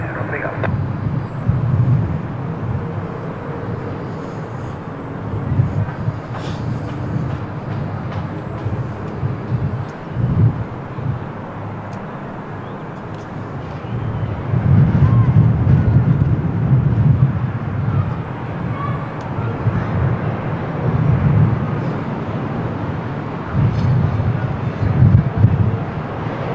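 A plane taking off from runway 02 at Lisbon Airport on a windy day, a broad low roar that stays steady and then swells louder near the end, with wind buffeting the microphone.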